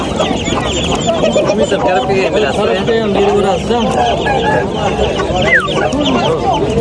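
Chickens and a rooster clucking and calling among the stalls of a busy poultry and pigeon bazaar, bird sounds scattered over steady crowd chatter and nearby talk.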